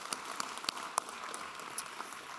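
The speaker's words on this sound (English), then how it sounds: "Let's give a big round of applause for those kids." Audience applause for student athletes at a school signing ceremony, a steady wash of clapping with a few louder individual claps standing out, moderately distant and continuous throughout.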